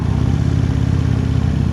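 A 2016 Harley-Davidson CVO Road Glide Ultra rumbles at a slow crawl, a low, steady, even engine note with a constant throb and no revving.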